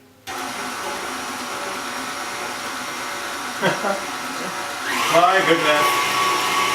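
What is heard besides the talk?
mixer whisking Oreo cheesecake mixture with eggs and cream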